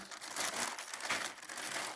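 Thin plastic bags crinkling and rustling steadily as they are folded and stuffed into another bag, a close, continuous crackle with no talking.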